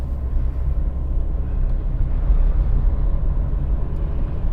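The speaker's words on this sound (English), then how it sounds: "what are these trucks doing?" Road traffic with trucks passing close by, a steady loud low rumble of engines and tyres running throughout with no pauses.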